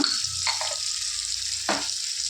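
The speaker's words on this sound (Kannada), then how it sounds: "ಒಂದು ಹದಿನೈದು ಸೆಕೆಂಡು ಫ್ರೈ ಮಾಡ್ಕೊಂಡ್ವಿ ಮೀಡಿಯಮ್ ಫ್ಲೇಮಲ್ಲಿ" Tomatoes with salt frying on a medium flame, a steady close sizzle with a few brief stirring scrapes, no talk.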